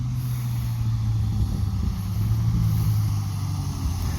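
A truck idles and rolls up close during a corn and soybean harvest, a steady low engine rumble with a constant drone, running on alone without voices.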